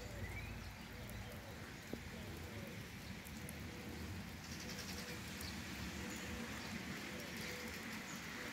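Small songbird singing outdoors during a warm spring rain after snowfall, its chirps thin and distant over steady rain patter and faint background noise.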